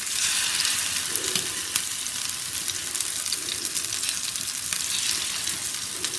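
Fish fingers fry in hot oil, giving a dense, continuous sizzling hiss that holds steady throughout, with a few faint ticks and pops, close and unaccompanied by talk.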